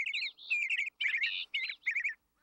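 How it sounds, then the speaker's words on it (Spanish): Cartoon birds in treetops in a children's show, a lively run of bright, repeated chirps and tweets in several short bursts with brief gaps, close and clear with no talking. "Fufa y Broby están tratando de ver los pajaritos en los árboles"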